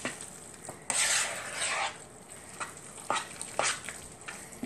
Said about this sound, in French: On va juste battre notre œuf un petit peu ici.